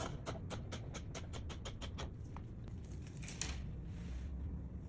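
Scissors snip through fabric for the front of a shift dress in a quick run of about a dozen crisp, evenly spaced cuts, then a few scattered snips fade into quiet room hiss.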